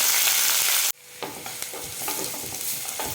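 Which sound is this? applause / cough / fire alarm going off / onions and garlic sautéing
onions and garlic sautéing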